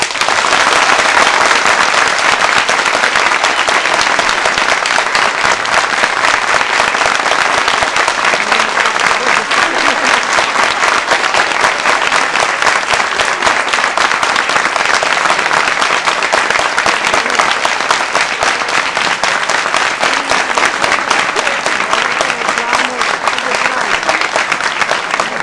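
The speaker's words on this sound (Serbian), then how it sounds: "Ajmo, svi zajedno aplauz," A TV quiz studio audience applauds loudly and steadily for the whole stretch, a dense wash of clapping with no break or fade.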